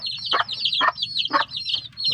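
Chickens and newly hatched chicks in a Filipino backyard coop, with chicks peeping in a continuous high cheep and a hen giving about four low clucks at a steady rhythm, close and fairly loud.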